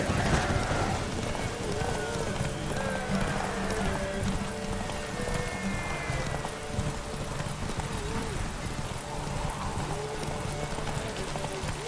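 Roach the horse gallops in The Witcher 3, with steady rapid hoofbeats running throughout and an occasional whinny, while a voice speaks over the galloping.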